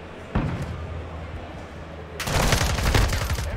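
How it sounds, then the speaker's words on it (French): Gunfire from a weapon in Modern Warfare 2 multiplayer: a single sharp shot, then after a pause a loud burst of rapid fire, with talk faintly underneath. "ton arme a tiré vraiment mieux que la mienne"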